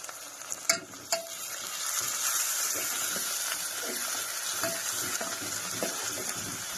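Green chili, garlic and ginger paste frying in a pan for veg pulao, with a continuous sizzle under repeated stirring and a few sharp clinks of a utensil against the pan early on, close and without speech.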